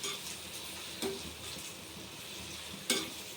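Raw prawn curry with ginger-garlic paste gets stirred in a pan over medium flame, a continuous frying sizzle with a couple of sharp spoon clinks against the metal.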